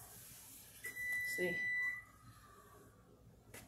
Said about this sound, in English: if you heard the beep, it's because the oven's preheated now to 400 degrees